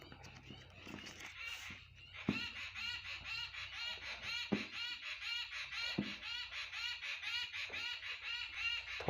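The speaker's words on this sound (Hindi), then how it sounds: "चिड़िया बोल रही है" Small birds chirp and twitter repeatedly throughout, moderately near, with a few brief louder knocks and faint background noise.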